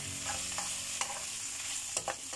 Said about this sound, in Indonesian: Nah kita aduk sampai matang ya